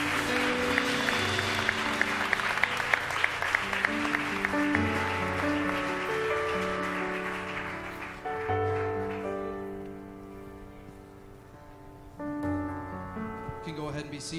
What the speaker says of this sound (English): Let's give our chorale a hand clap of praise.